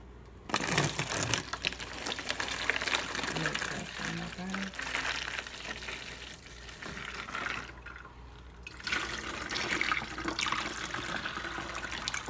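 Homemade sweet tea poured through a funnel into a rinsed, recycled juice container, a continuous splashing trickle that fills the whole stretch, with a brief dip midway and a low hum underneath.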